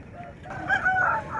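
Roosters at the Gudur chicken market, with a brief crow and clucking rising over a steady crowd murmur of market noise.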